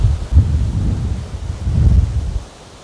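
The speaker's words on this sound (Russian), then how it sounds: "Слушайте, ураганный ветер просто." Hurricane-force wind on a dark stormy evening in Anapa, roaring in heavy low gusts that swell and ease twice, buffeting close and loud before dropping off at the end.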